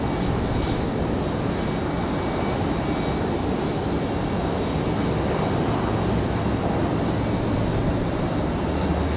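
A Boeing 757 departing Raleigh Durham for Atlanta gives off a loud, dense, continuous jet-engine roar, heavy in the low end and unbroken for the whole stretch.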